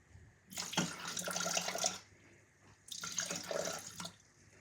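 Water pours into a bowl in two short streams, a splashing gush for over a second, a pause, then another pour, close and fairly quiet.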